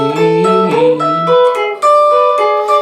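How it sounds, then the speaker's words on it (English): An electric lead guitar plays a short, quick transition riff from a song, climbing and shifting notes, loud and close, with no voices. "There's a little riff the lead guitar does to transition from the first part to the second part."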